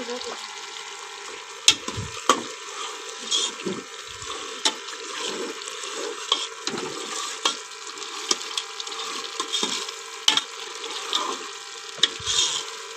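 Salan curry being stirred and mixed in a pot, with repeated scraping and clinking knocks of a spoon against the metal over a steady background hiss, close and fairly loud throughout.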